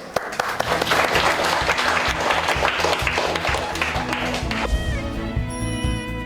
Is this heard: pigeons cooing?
no